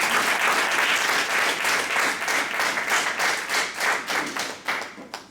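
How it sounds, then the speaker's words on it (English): Thunderous audience applause fills an auditorium during a leadership talk, dense clapping at full strength that thins into scattered, separate claps toward the end. "With a thunderous applause."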